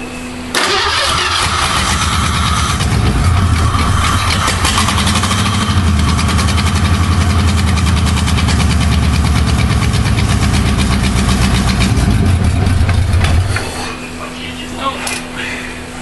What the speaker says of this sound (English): now we're going to start it up with the new wires